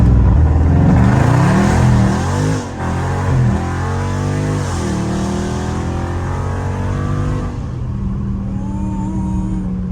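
A Dodge Scat Pack on bald tires, in drive at 1500 RPM, launches hard with a loud, close engine roar that climbs through the revs, with shifts between pulls and a dip to a lower note near the end.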